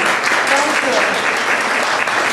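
Audience applause at an evening arts event, a dense steady wash of many hands clapping throughout, loud and close, with a brief word spoken over it near the end.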